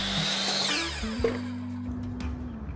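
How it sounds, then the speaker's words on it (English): Chop saw cutting a board during a workbench build, the motor whining loudly and then dropping into a lower steady hum as the blade runs through the wood. "Bring it over to the chop saw. I just barely have enough room to make that cut."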